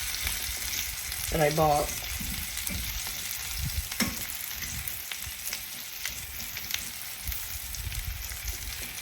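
Mushrooms sautéing in a pan for beef burgundy stew, a steady close sizzle with occasional stirring scrapes, while a voice briefly speaks over it near the start.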